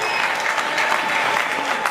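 A church congregation claps for the Lord during a sermon, a dense, even wash of applause from many hands, loud and close, holding steady for the whole stretch.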